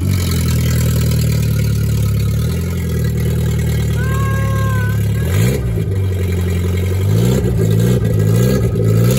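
A loud car engine with its catalytic converter stolen idles roughly then revs up several times, a harsh, raspy drone with rising and falling pitch, close by.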